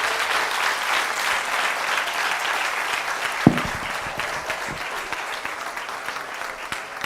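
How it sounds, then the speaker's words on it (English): At a TEDx event at a Nigerian university, an audience claps continuously in a dense, even roar, with one sharp louder bump partway through. "Let's keep clapping till we get to this."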